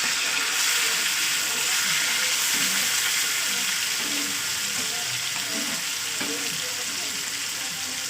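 A piece of fish fries in oil in a pan after being flipped, with a loud, close, steady sizzle and hiss running continuously throughout.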